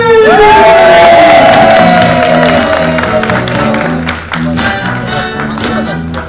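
A studio audience on a comedy show with a jury panel bursts into loud cheering, whoops and clapping for a performer, voices soaring at first, over a pulsing musical beat that carries on as the noise settles.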